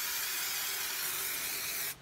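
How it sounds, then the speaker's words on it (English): WD-40 sprayed from an aerosol can during restoration of a vintage Record No. 5 woodworking plane, one steady close hiss lasting about two seconds before cutting off abruptly. "I used some WD-40."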